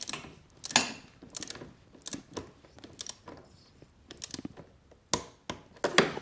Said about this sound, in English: So I've got my torque wrench ready and set to 10 Newton meters